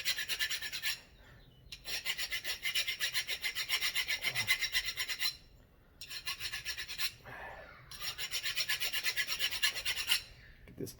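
Someone hand-files a metal inner bearing surface on a home-built crosskart buggy, making long raspy strokes in four sustained bursts separated by short pauses, close and fairly quiet.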